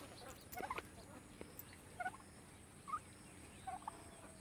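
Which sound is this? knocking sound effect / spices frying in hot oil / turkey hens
turkey hens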